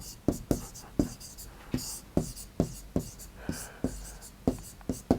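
Chalk or marker writing math equations on a classroom board during a Class 12 three-dimensional geometry lesson, giving a steady series of sharp tapping strokes, close and clear, with faint whispery breathing between them.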